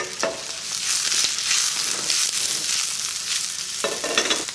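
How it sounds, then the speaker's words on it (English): Steady, loud crackling sizzle of vegetables shallow frying in hot oil, with occasional sharper pops and a few stirring scrapes throughout. "now that the oil's nice and hot, we're going to add the vegetables. You should hear them sizzle."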